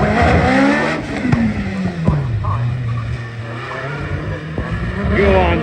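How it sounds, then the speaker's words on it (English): A hill climb race car engine roars nearby at Loton Park, pitch rising and falling as it revs and shifts, loud and rough throughout. "I can hear him coming."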